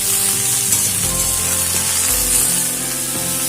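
Flat beans and cut potatoes frying together in a pan, a loud steady sizzle of hot oil running continuously with a faint low hum underneath.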